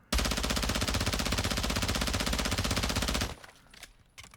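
Rapid automatic gunfire from the Vel 46 submachine gun in Call of Duty: Modern Warfare II, a loud continuous burst lasting about three seconds, then a few faint clicks and shuffles.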